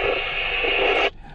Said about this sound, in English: I think it's just white noise, but.